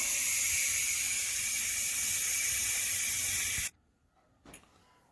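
Pressure release valve on a Ninja Foodi pressure cooker and air fryer, blasting a loud, steady hiss of escaping steam that cuts off abruptly, then a faint short puff and quiet.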